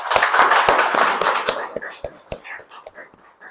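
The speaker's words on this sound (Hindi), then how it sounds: "अवधेश जी की जितनी भी तालियां बजा सकें प्लीज" An audience at a lecture claps for a guest: a full burst of applause that quickly thins into scattered, separate claps and fades out.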